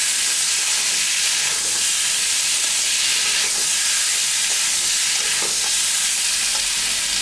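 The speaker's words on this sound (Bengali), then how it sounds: "হলুদটা দিয়ে দিলাম, নাড়াচাড়া করে মশলা দিয়ে দিলাম।" Turmeric, green chili, ginger and cumin paste fry with spices in a pan for a small-fish curry, a loud continuous hiss and sizzle with faint stirring scrapes underneath, no voices.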